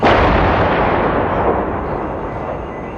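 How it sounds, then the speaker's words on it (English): Heavy artillery shelling on a Sarajevo old-town main street in 1992; a single loud close blast opens and then rolls out into a long rumbling echo that slowly decays. "It was the heaviest day of shelling on Sarajevo from Serbian positions in the hills."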